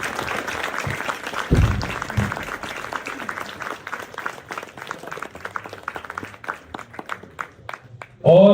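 Audience applause at a theater festival performance, acknowledging the director Jamal Mujeeb Qureshi, with dense clapping throughout and a louder burst near the end.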